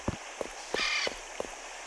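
A crow cawing in Resident Evil Code Veronica X video game, a few short, rasping caws spaced out over a faint, quiet background.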